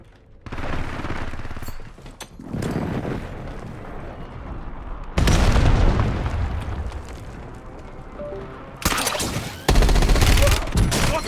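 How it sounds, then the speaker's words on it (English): Airstrike explosions in the Warzone video game, a series of loud broadband blasts in bursts with rumbling tails, the heaviest hits landing about halfway through and near the end, with brief voices in between. "Hostile airstrike incoming."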